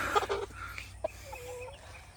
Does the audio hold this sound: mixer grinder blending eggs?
no